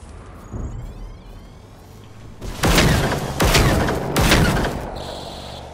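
Three loud gunshot blasts ring out in quick succession after a quieter stretch of ambience in the video game Generation Zero, each with a sharp crack and rumbling tail.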